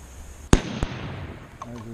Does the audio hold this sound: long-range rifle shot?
yes